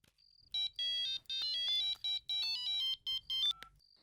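A phone ringtone plays a bright electronic melody of short, stepped beeping tones in quick bursts, clear and fairly close, with no talking over it.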